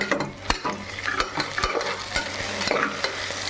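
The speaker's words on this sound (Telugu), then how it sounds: "ఇది రెడ్డిష్ కలర్లో వచ్చేంత వరకు ముందు దీన్ని ఏం చేద్దామంటే బాగా ఫ్రై చేసుకుందాం మనము." Semiya vermicelli frying in a pan while being stirred with a large ladle, a continuous sizzle broken by sharp scraping clacks of the utensil against the pan at irregular intervals, close and without talk.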